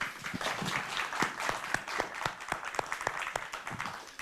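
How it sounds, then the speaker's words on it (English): Audience at a community panel discussion applauding, steady dense clapping from a modest crowd that carries evenly for several seconds at moderate loudness, with individual sharp claps standing out. "A round of applause, please."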